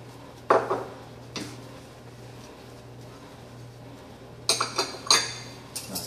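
Espresso and cappuccino cups and teaspoons are set down on saucers while barista tools are cleaned, producing a handful of sharp ceramic and metal clinks spaced apart over a low steady hum.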